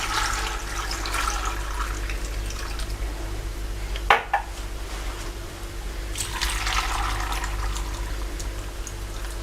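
Lemon juice being poured into a glass jar of olives set up for pickling, a steady liquid pour with a brief clink partway through and a second burst of splashing toward the end.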